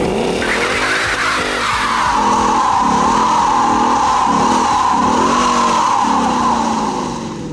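A 2017 Ford Mustang GT Convertible does a line lock burnout, its tires squealing in a loud, sustained screech over the revving engine's rhythmic pulsing, close and continuous throughout.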